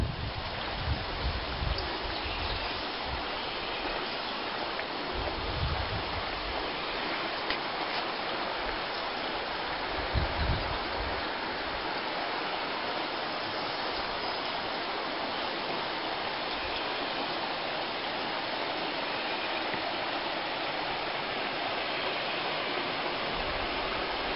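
Steady rushing water of Clifty Creek in Shades State Park, Indiana, flowing continuously, broad and fairly loud, with a few low bumps and no voices.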